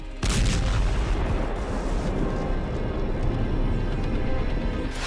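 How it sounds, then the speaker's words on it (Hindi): A loud, sustained explosive roar from a strike on a building: a sudden blast followed by several seconds of dense, rumbling noise with no voices. "धमाके से खामेनेई वाली बिल्डिंग की जगह बड़ा गड्ढा दिखाई दिया।"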